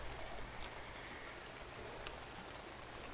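Steady rain falling in the video game ARK, a continuous broadband patter of drops on surfaces that holds at an even, moderate level from start to finish with no talk.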